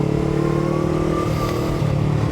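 A tuned Honda NX500 motorcycle with a Stage 1 tune revs steadily, its close, loud engine drone holding a layered harmonic tone that climbs slightly in pitch midway before settling.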